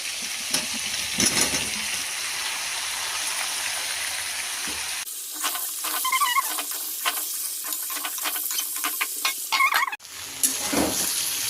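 Vegetables sizzle in a hot pan while a utensil stirs them, scraping and clattering in bursts over the steady frying hiss.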